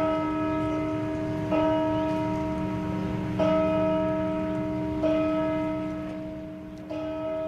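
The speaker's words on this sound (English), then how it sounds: "Those bells are to honor a soldier who died in World War II." Church bells ring out loud and near at a funeral honoring a World War II soldier, with strong repeated strikes about every one and a half seconds and long humming tones sustained between them.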